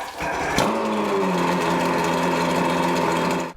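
An outboard boat engine runs on land with flushing muffs attached, starting with a quick catch and then holding a steady, buzzy idle close by until it cuts off at the end.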